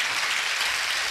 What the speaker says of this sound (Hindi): अगर सुन रहे तो दो ही तालियां क्यों बज रही